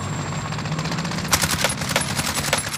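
Rapid gunfire in the Call of Duty Warzone video game, a string of sharp automatic shots at a steady rhythm over a constant engine-like background drone.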